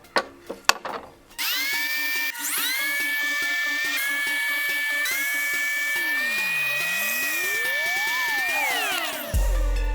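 Lotus thickness planer feeding a hardwood board on its second pass, a steady high whining motor with rising and falling pitch, preceded by a few sharp knocks and ending in a louder low thump.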